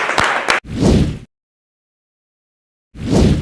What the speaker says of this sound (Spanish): Compañero César Trejo, les pido un gran aplauso, compañeros y compañeras.